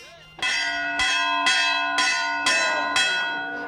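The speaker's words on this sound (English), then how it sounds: "The class leader wants just one opportunity to finally ring the bell." A Navy SEAL training bell rung in a steady series of five loud, ringing strikes about half a second apart, each leaving a bright sustained tone that overlaps the next.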